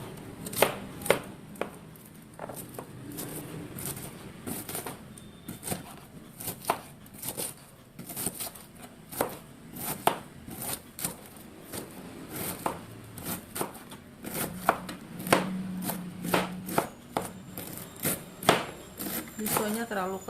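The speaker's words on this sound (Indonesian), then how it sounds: "kolnya dulu ya, kita potong-potong dulu." A small knife chops cabbage on a board with rapid, irregular sharp knocks repeating over about twenty seconds, close and fairly quiet, with occasional faint sounds between cuts.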